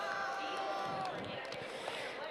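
Crowd of team supporters cheering and shouting at a FIRST Global Challenge robotics competition, a loud continuous roar of many voices with some whistling, a nearby voice talking over it.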